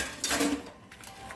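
A knife clicks and scrapes against a board while cutting smoked sausage, a few short taps close by and fairly quiet, with no talking.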